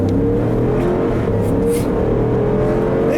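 A 2014 Jeep Grand Cherokee Summit's V8 engine pulls hard under acceleration, a steady throaty drone with rising tone heard from inside the cabin, loud and continuous with no talking.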